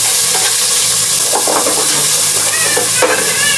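Garlic and crab broth sizzling in a cooking pot while preparing crab in sauce, a steady loud frying hiss with small pops and stirring clatter throughout, no talking.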